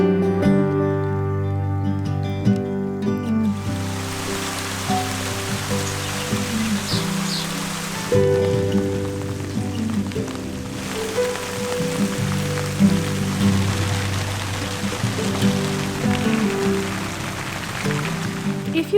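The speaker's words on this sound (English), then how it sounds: "wasn't it only about 30 seconds ago that Bee was saying it's not raining today and it's the first day it's not been raining for ages" Steady rain falls over an off-grid stone cottage building site in Portugal, a continuous soft hiss that lasts throughout alongside a low, steady tonal background.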